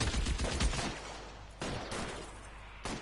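Gunfire from an L.A. Noire shootout: rapid, dense volleys of shots in several loud bursts separated by short pauses, with no voices over them.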